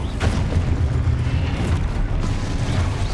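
A Confringo spell blast in Hogwarts Legacy, a loud, sustained booming roar with a dense low rumble that holds steady for a few seconds.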